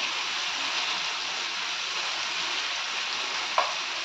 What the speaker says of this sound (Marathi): या सर्व भाज्या तेलामध्ये छान फ्राय करून घ्यायच्या आपल्याला.